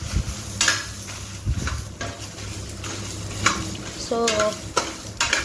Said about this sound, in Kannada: ತೆಂಗಿನಕಾಯಿ ಹಾಕೋದು ಬೇಡ, ಫ್ರೈ ಮಾಡ್ತಾ ಇದ್ದೇನೆ